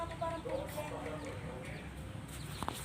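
A Buff Orpington hen clucks softly in a backyard flock, a few low, irregular clucks and murmurs with other chickens faintly audible around it.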